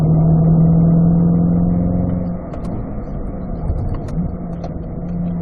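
A C8 Corvette's engine drones loudly and steadily on the Spring Mountain track, then drops in pitch as it eases off, with faint clicks and ticks over the lower rumble.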